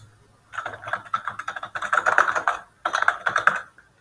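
Fingers typing on a computer keyboard in three rapid bursts of clicky keystrokes separated by short pauses, close and clear with no talk.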